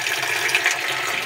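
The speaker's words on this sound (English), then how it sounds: "We are fetching water." Water being fetched for a semi-automatic washing machine, a steady rushing, splashing flow filling at close range, unbroken and fairly loud with no speech.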